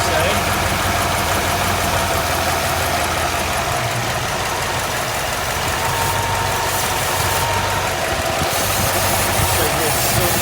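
A 1965 Ford Ranchero engine idles loudly and steadily after its first start since valve cover, fuel line and cooling work, with a rough, uneven rumble from a leaky intake, close up throughout.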